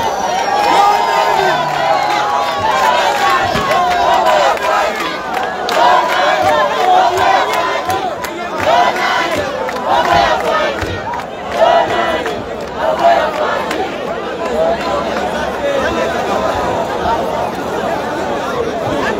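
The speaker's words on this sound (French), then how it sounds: "Une foule immense." A huge crowd at Chicapa national airport awaiting a presidential arrival, a loud, sustained roar of cheering, shouting and chatter that swells and dips throughout, with voices rising over one another near and far.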